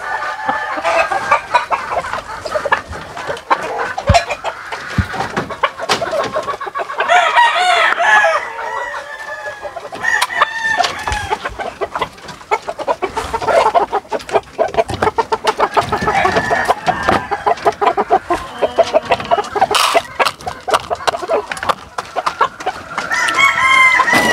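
A Boston Roundhead broodcock rooster crows loudly several times and clucks in between, close by, with other fowl calling around it.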